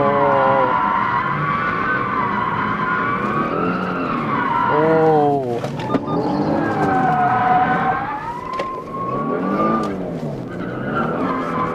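Genesis G70 or Kia Stinger drifting in second gear, with loud sustained tire squeal and skidding that rises and falls in pitch over revving engine noise, close and continuous.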